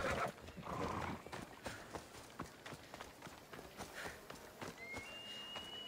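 Horse hooves clip-clop in a quick running rhythm while riding in Assassin's Creed Odyssey, a steady stream of light rapid thuds over game ambience with a faint whinny-like tone near the end.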